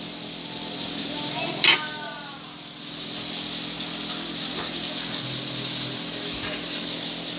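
Burger meat laid onto a hot cooking surface gives a steady broadband sizzle and hiss, with a brief louder crackle early on as it goes down, then an even frying sound that carries through to the end.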